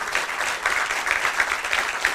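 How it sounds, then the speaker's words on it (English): Brief burst of audience applause after a talk at a tech conference, many hands clapping in a dense, even patter throughout. "please give Attila a warm round of applause."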